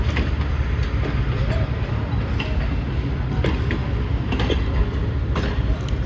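Overcrowded Pakistan Railways passenger train running between Rawalpindi and Wazirabad, heard as a steady, loud rumble of wheels and carriages with faint clatter throughout, plus scattered voices mixed into the din.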